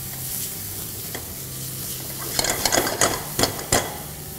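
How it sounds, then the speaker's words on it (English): Chopped garlic and sliced spring onion sizzle in a hot pan of oil, a steady frying hiss broken by several sharp scraping stirs and clacks near the end. "And now to this hot pan, I'll add some chopped garlic and some spring onion, which is sliced."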